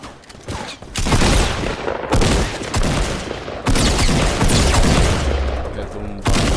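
Dense, loud bursts of video game gunfire crackle across the whole stretch, with sharp onsets near one, two and nearly four seconds over a continuous roar and no talk.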